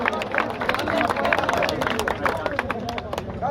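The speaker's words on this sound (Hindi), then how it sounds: "तालियां मार जोर से जी।" A crowd at a rural bull-racing fair prize ceremony applauds loudly, dense scattered clapping mixed with hubbub and chatter, continuous and fairly close for the whole stretch.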